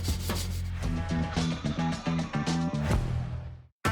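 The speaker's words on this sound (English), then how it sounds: "Then scrub with a wire brush or steel wool." Wire brush or steel wool scrubbing rust off an oiled garden tool, a run of quick, close rubbing strokes in a steady rhythm that stops abruptly near the end.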